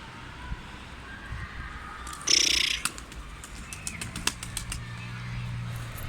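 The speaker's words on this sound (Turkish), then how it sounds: "Şimdi bu kuşları ilk defa uçuracağım." Ala pigeons released for flight give a sudden close burst of wing flapping midway, over a faint outdoor background with scattered light clicks and chirps.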